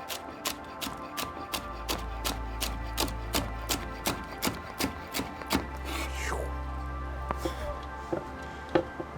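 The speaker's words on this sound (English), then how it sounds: "we've got some onion, little green onion, kind of like a scallion that we're gonna chop up" A knife chops green onion, a small scallion, on a cutting board in a steady run of about twenty crisp, evenly spaced taps, close and clear, with a low hum underneath and a short pause near the end before a few final cuts.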